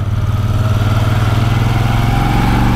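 Moto Guzzi V7 III motorcycle engine while riding, a loud continuous low throbbing rumble with a steady pulsing beat and wind noise layered over it, no voices.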